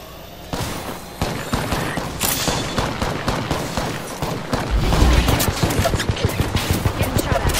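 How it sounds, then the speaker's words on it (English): Dense, rapid gunfire from an Apex Legends match rattles throughout in continuous bursts, with heavier booming impacts thickening near the end; no one talks. "Getting shot at."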